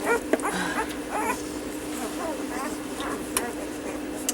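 Newborn puppies whine and yip in short, high bursts during a feeding, close and fairly clear, with a person talking over them.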